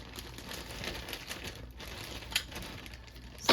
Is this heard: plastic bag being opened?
yes